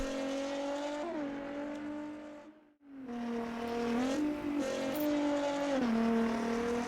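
Race car engine in the Automobilista 2 sim racing game, a loud, steady high-pitched drone with shifts in pitch through gear changes and a brief dip off throttle, heard alone.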